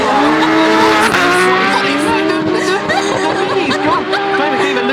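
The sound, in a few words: drift cars racing with tire squeal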